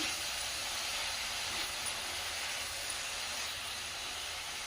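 Spinach fries in a pan with moong dal nearby, making a steady, even sizzling hiss that holds without a break from start to finish at moderate loudness.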